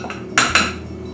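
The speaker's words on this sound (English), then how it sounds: "I've got my little masher here and my most important thing is to get the Smart Balance spread in here and to mash that around" A potato masher works through hot potatoes and Smart Balance spread in a pot, giving two loud, close metallic clanks in quick succession over a steady low hum.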